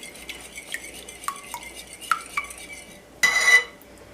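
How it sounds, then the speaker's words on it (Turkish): A utensil stirs crepe batter ingredients in a bowl, giving a series of light clinking taps against the bowl and then a brief louder rattling scrape at the end, close with no talk. "Bunları da şöyle bir karıştırıyorum."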